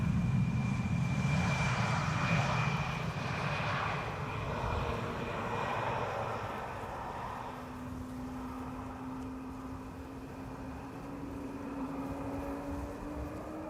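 Embraer 175 airliner arriving on the Polderbaan runway at Amsterdam Schiphol, its engine roar loud and broad at first, then easing into a steady, more distant drone with a rising whine.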